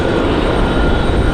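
A Boeing 737-700 airliner arriving from Punta Cana to land on runway 23 right at Raleigh-Durham roars loudly and steadily overhead as a broad, dense jet rumble with no voices.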